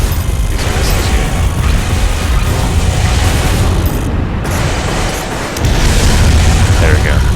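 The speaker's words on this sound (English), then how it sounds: "These are missiles here." Missiles burst in the Armored Core 3 video game as a heavyweight mech battles. Dense, loud booms and blasts pile up almost without pause across the whole stretch.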